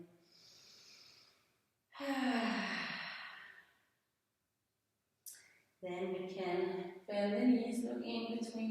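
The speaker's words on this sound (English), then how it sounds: "One last deep breath in." A deep yoga breath: a soft faint inhale, then a long loud rushing breath, and after a pause a voiced, sigh-like exhale sustained to the end.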